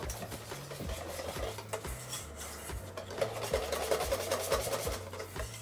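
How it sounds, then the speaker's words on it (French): A whisk or spoon works liquid crème fraîche into flan pâtissier batter in a bowl, a soft repetitive rubbing and scraping in steady strokes, faint and close over low background music. "On continue par ajouter la crème fraîche liquide et on remue à nouveau."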